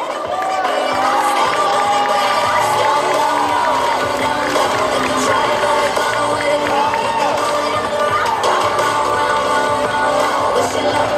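An audience at a cosplay parade at the Yatah 2023 event applauds and cheers with whoops, a loud and continuous crowd roar throughout.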